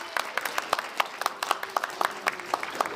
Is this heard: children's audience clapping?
yes